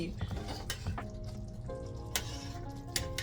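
Gravy Master being stirred into pot roast in a sizzling pan, a soft low sizzle with faint scraping and a few sharp clinks of the utensil against the pan.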